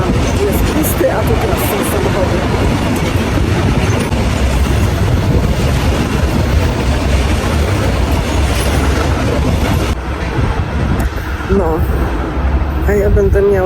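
A train carrying cars rolls past steadily with a loud rumbling, clattering roar and some wheel squeal, while a person talks over it nearby.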